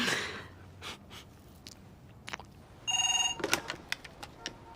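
A telephone rings with a bright electronic trill in a short burst near the middle, followed by scattered clicks and breaths, fairly close and alone without speech.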